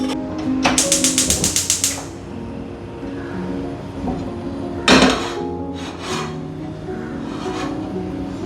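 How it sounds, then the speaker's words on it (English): A spoon mixing poha with sugar and salt in a bowl gives a quick run of sharp, evenly spaced clicks, followed by a few scattered knocks and scrapes against the bowl. "we just mix it a bit so the poha is evenly coated with the sugar and salt mixture"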